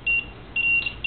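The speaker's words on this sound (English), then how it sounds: "But you hear the alarm going off." Repeated electronic beeps from a PS3 water-cooling mod's leak alarm, set off by air bubbles in the liquid loop; two bursts of steady high-pitched tones, close and clear, with no talking.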